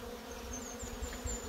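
A colony of bees in a garden, being taken out for moving to an apiary, gives a faint, steady buzzing hum. A few brief higher whines pass close by.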